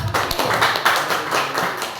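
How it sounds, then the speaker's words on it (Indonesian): Classroom applause from a group of students and teachers, a steady patter of many hands clapping together for about two seconds, moderately loud and close, with no talk over it. "Tepuk tangan dulu untuk Bu."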